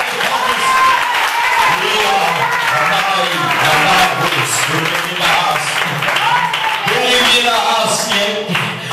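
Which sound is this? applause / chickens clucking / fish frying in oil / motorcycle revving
applause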